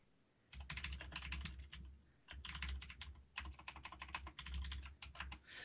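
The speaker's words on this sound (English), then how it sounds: "you can hear you typing" Rapid clicking keystrokes on a computer keyboard in bursts separated by short pauses, close and fairly quiet, with no talk.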